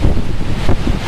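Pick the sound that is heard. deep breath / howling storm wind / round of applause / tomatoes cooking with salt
howling storm wind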